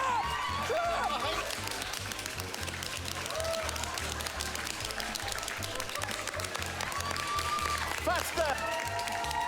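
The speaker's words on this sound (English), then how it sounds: "Keep clapping." People clapping on a comedy game show, continuous crowd applause with distinct close claps, while excited voices shout over it throughout.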